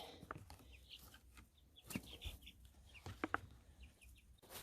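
Chickens cluck and peck at scattered feed, with soft scattered clucks, a few sharper calls and light rustling close by, fairly quiet overall.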